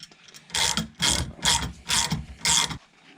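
A nut being run down the threads of a Holset H1C turbo, heard as five loud rhythmic ratcheting bursts with short pauses between them, close up with no talking.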